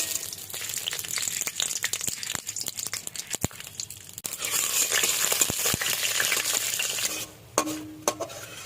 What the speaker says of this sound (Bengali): বড়ি ভেজে নেবে, ঠিক আছে।